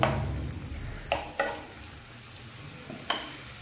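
A spoon stirs dal dhokli with green chilli in a pan, giving a few soft scrapes and clicks over a quiet, steady sizzle.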